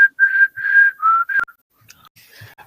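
A person whistles a short tune, a clear, close melody of several sustained notes that stops abruptly, followed by faint scattered background sounds.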